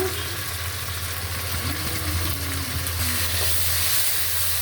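Onion paste fries with ginger and garlic paste and salt in a pan, a continuous close sizzle with a low steady hum underneath.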